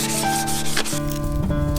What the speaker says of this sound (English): this one is going to be a wet sand. So I'm going to wet the sandpaper down first.